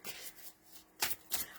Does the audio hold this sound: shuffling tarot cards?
yes